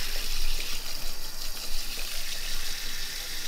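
Water runs steadily from a tap while hair is washed at a barbershop, a continuous close splashing hiss with no voices.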